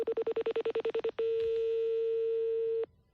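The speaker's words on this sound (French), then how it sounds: "D'accord, je vais l'appeler, hein." A telephone number is dialed on a phone line, heard as a rapid string of about ten identical short beeps followed by a long, steady, clean tone, with no voices.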